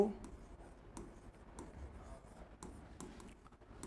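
Chalk or marker strokes tap and scratch on a board during a physics lesson, short faint scribbles in a quiet room.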